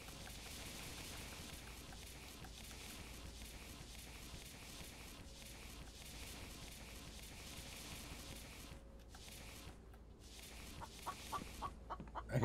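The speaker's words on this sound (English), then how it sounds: "I hear you, chicken." In The Infected video game a chicken clucks in soft repeated bursts under a constant busy background hum, with a few sharper clicks near the end.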